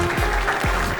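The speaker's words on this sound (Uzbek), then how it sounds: "bu qarsaklar siz uchun." Brief burst of audience applause for quiz finalists at a televised knowledge contest, dense steady clapping filling the whole moment.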